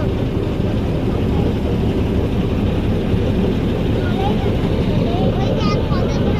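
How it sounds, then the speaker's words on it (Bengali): Launch boat engine droning steadily as the vessel sets off, a constant loud low rumble up close with wind and water noise, people talking in the background. "লঞ্চ ছেড়ে দিয়েছে ছেড়ে দিল"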